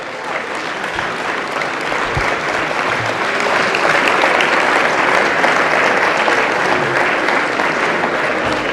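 An audience at an inaugural speech applauds firefighters collectively, a dense, sustained roomful of clapping that swells and holds steady for several seconds, loud and continuous with no voices on top.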